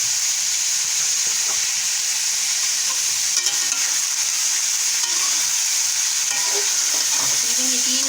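Spices and rice stir-fry in a pan with a continuous, even sizzling hiss and faint scraping of the spoon, steady and close throughout with no voices.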